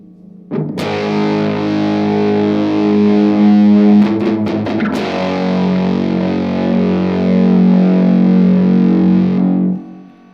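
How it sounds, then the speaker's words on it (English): A heavily fuzzed electric guitar through a Mythos Hephaestus variable-voltage fuzz pedal with room effect strikes a thick, sustained chord, with a brief strummed flurry mid-way, ringing loud before cutting off. "I really like what the room effect gives with the fuzz"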